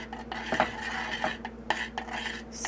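A utensil stirs minced garlic into a thick Alfredo sauce in a pan, producing close, intermittent metallic scrapes and clinks against the cookware over a low steady hum.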